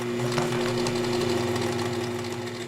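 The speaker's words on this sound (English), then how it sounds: "we're going to be stitching the inside arc to this side" A sit-down quilting machine stitches an arc of a quilt along a ruler, a steady close, loud mechanical hum with a fast, even stitching rhythm running throughout.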